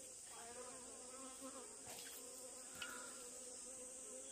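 A black hornet gives a faint, steady buzz, with a continuous droning hum sustained throughout and small shifts in pitch and a brief knock partway through.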